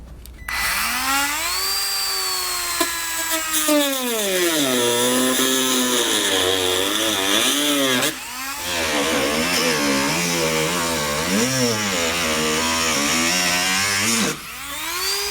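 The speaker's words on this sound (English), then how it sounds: "I'm going to use a Dremel tool to cut it out." A Dremel rotary tool with a cutoff wheel cuts through thick plastic, whining loudly and steadily with pitch dips and rises as the load changes, heard close and without talk.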